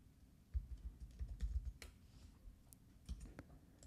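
Computer mouse clicks and keyboard typing at a desk during CAD work, a quiet, close run of irregular taps and clicks with no talk.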